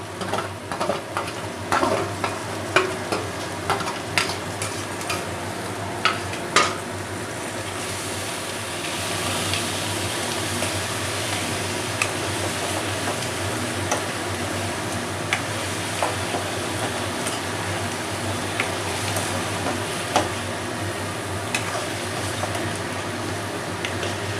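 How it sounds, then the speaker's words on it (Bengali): Fried crab pieces and potatoes added back into a pan of spiced gravy for Bengali-style crab curry, with a steady close sizzle and repeated scraping stirs, a few sharp clatters early on, no talking. "এবার এক এক করে এই আলু কাঁকড়া এগুলো যেগুলো ভাজা ভেজে রেখেছিলাম সব এর মধ্যে দিয়ে দিতে হবে"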